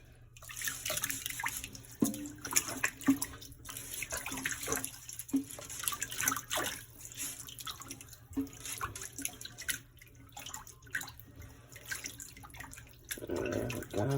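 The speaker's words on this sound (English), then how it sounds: "we're gonna rinse it about 2 more times, fully immersed in water" Sea moss being rinsed under a running kitchen tap: a steady stream of water splashing and gurgling, with irregular sloshes and drips as the seaweed is handled nearby. No one speaks.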